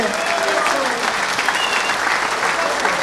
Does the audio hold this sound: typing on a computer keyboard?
no